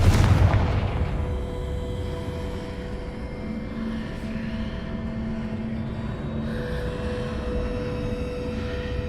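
A Confringo fire spell in Hogwarts Legacy bursts with a sharp, loud explosive blast at the start, then a low rumbling tail settles into sustained droning game ambience.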